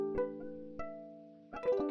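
Plucked strings on a physically modeled guitar with a wooden body, built in a modular synthesizer: a few separate plucks ring out with sustained harmonic tones, then a quick cluster of notes near the end, clear and alone.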